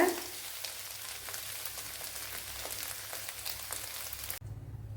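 Scrambled egg frying in a pan, giving a faint, steady crackling sizzle throughout that cuts off abruptly near the end.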